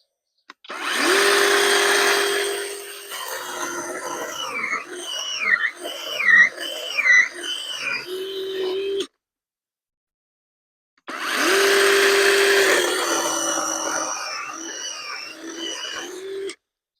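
A DNIPRO-M DCS-201BC cordless saw runs in two bursts with a pause between, a steady whine rising and falling as it cuts, no talking.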